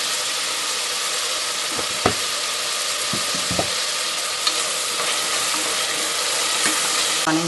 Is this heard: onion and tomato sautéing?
yes